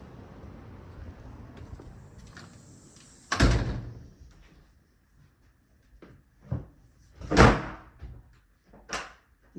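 An interior door in a Richmond, Virginia row home is pushed shut with a loud thud, followed by a few quieter knocks and clunks of the door and latch settling in a quiet room.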